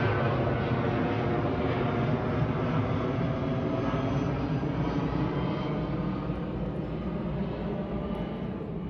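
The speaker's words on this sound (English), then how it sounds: "Planes, hate them." A plane passes over a small backyard garden in July, its steady broadband roar loud and unbroken throughout, with no voices.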